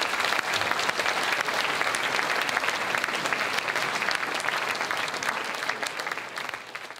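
An audience applauds continuously and vigorously at the Marathon des Sables desert race in Jordan, a dense, steady wall of clapping lasting throughout.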